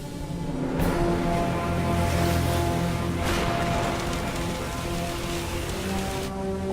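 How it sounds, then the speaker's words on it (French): Strong sea waves crash and churn in a dramatic film scene at sea, a loud continuous watery roar with surging bursts over a low tonal musical drone. "les vagues sont trop fortes"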